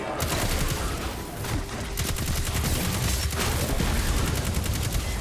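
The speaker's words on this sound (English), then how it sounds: "can fire from the hip, too" Rapid gunfire from a weapon shot from the hip in the video game Destiny 2, a loud, dense run of shots that continues steadily without a break for about five seconds.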